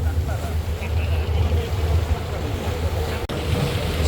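A large passenger river launch's engine drones steadily and loud during a launch race on a river, a deep low rumble with wind noise across the microphone, continuous for a few seconds with one brief dropout near the end.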